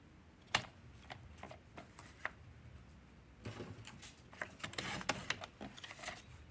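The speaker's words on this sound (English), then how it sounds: "So we're gonna put that in the trimmer tall, and we're gonna cut it at 3 1/4." A paper trimmer slides through cardstock with faint clicks and a soft, rough scraping swipe in the middle. The sound is quiet and close, and no one talks.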